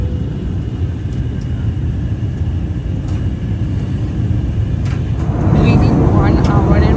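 Steady broadband airliner cabin roar during flight shortly before landing in Varanasi, continuous and fairly loud, growing a little louder near the end, with no talk over it.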